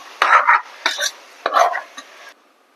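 Boti (goat tripe) and tomato curry being stirred in a pan, with four short scraping bursts of the spoon against the pan at a steady rhythm, close and fairly loud, then quiet.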